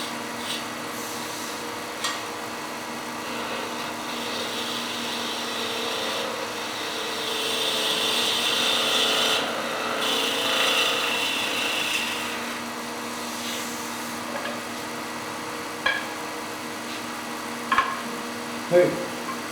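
A wood gouge on a lathe makes a shearing cut, giving a sustained scraping hiss that grows louder mid-way and then gives way to a few sharp taps and clicks.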